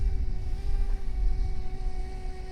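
A small RC boat motor whines steadily at full throttle, a continuous buzzing drone with a faint rumble underneath and no one speaking.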